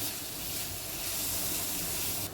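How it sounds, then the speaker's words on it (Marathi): Coriander, turmeric and house masala sautéing in a pan, a loud steady hiss that runs unbroken and close for a couple of seconds, with no talk. "त्यामुळे कोथिंबीर, मसाले आपण परतून घेऊया"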